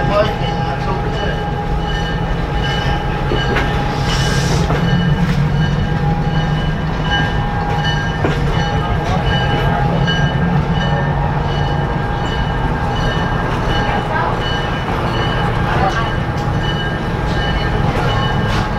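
A train on a scenic ride runs along its rails with a loud, steady rumble, rhythmic wheel clatter and occasional squealing, continuous and close throughout, with people talking at times over it.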